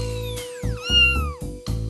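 A cartoon cat meows in a drawn-out, sliding cry over a steady electronic hum and pulsing low tones, loud and close.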